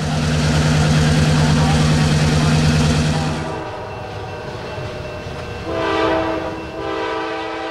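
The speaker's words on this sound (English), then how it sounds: "A YN3-8 leading the BNSF grain train eastbound through Fostoria, Ohio." An eastbound BNSF grain train led by a YN3-paint Dash 8 locomotive rolls through Fostoria, Ohio at night, its loud sustained horn and engine drone giving way to steady rumbling railcars, with a brief tonal horn-like swell later.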